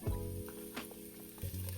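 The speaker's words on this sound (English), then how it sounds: "Good, that's the sizzle I want." Ingredients sizzle in a hot pan while being sautéed for a Southern meal, a soft steady crackle with a few light clinks, close and quiet, no talking.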